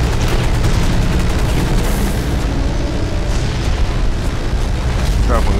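Mech gunfire and explosions from the video game Hawken, a dense, continuous barrage of booms and blasts at high volume, with a player's voice talking over the combat.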